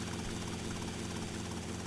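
Helicopter engine from GTA Vice City, a steady rotor drone and whine holding level and continuous, close and alone without speech.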